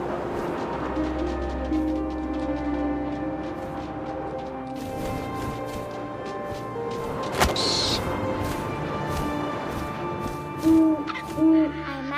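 Owl hooting in the video game What Remains of Edith Finch, a few clear hoots standing out over a steady ambient wind bed, with a couple of louder bumps near the end and no talking.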